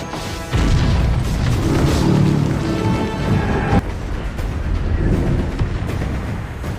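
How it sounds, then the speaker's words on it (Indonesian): Helicopter crash explosion in a film over the East River: a sudden loud boom hits after half a second, then a sustained rumbling, crashing roar with debris-like clatter that stays dense and heavy to the end. "Akibatnya terjadi ledakan dahsyat di East River"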